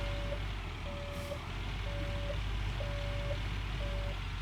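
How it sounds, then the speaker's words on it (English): Excavator reversing alarm from Gold Mining Simulator, five evenly spaced beeps over a steady low diesel engine rumble, loud and continuous with no talk. "See how the excavator's just not wanting to turn?"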